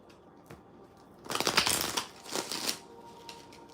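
Tarot cards are shuffled close up, with a dense riffling burst of about a second and a second shorter burst, separated by quieter handling and light taps.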